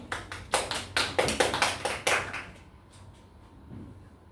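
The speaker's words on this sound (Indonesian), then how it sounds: "Kita tepuk tangan untuk Mbak Ani" Brief classroom applause for a student, a burst of sharp claps lasting about two seconds before fading into quiet room tone.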